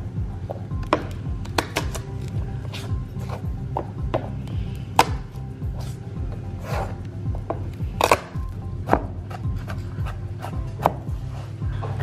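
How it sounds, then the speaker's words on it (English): A knife dicing food on a cutting board for a shrimp catch-and-cook meal, with close, irregular tapping chops over low background hum and no talking. "while I am dicing this up"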